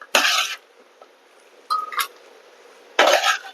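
Jackfruit seed fry scooped from a pan into a serving bowl, heard as three short bursts of metal-on-dish clinks and scraping with quiet gaps between, close and fairly loud.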